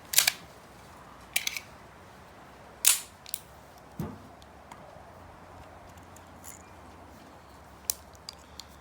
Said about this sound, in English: Take it apart, put the parts on the table, put them back inside the gun, and then hit stop.